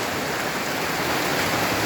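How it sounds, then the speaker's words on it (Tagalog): Heavy rain pours steadily outside a goat house, a dense, even hiss of downpour heard close and loud with no talking. "Ulan, lakas ulan sa labas eh."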